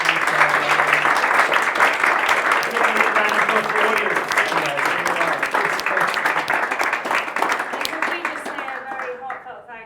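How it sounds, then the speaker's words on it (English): A room of attendees at a product and design panel event gives a sustained round of applause, dense steady clapping with scattered voices underneath that tapers off at the end. "can we have a round of applause for our panel, please?"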